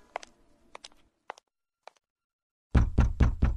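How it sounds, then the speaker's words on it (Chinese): A door is rapped in a radio suspense drama, a few soft scattered taps first, then after a pause three or four loud, heavy knocks close by. "他敲了敲门，等了一会儿，"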